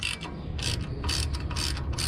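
A tool works a T30 Torx bolt on a Silverado brake assembly, giving a quick run of close, rhythmic ratcheting clicks over about two seconds.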